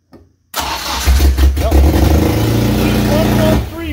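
A Honda K24 engine swapped into a Toyota AE86 Corolla cranks and catches after a brief silence, then runs loud and uneven close by, misfiring on one cylinder, with people talking over it.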